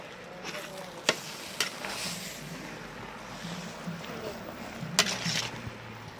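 Mashed potato samosa filling frying in oil, with a steady close sizzle and occasional sharp scrapes of stirring, while voices murmur faintly in the background.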